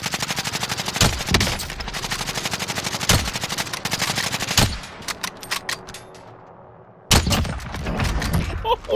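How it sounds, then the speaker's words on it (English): Rapid automatic gunfire in Call of Duty Warzone, played on PS5, rattles loud and close in sustained bursts with sharp single shots, a short lull near the end, then a fresh burst. "Taking fire!"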